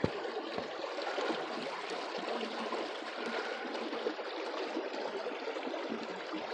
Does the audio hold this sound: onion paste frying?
no